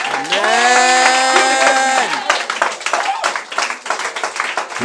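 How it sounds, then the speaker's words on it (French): A church congregation claps to acclaim Jesus. A sustained sung or shouted tone opens the clip, then dense, close applause carries on to the end. "On acclame le Seigneur Jésus-Christ."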